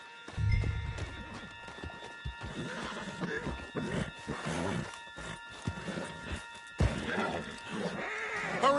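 A horse whinnies loudly near the start in the video game Red Dead Redemption 2, followed by galloping hooves and a busy mix of clattering action noises throughout.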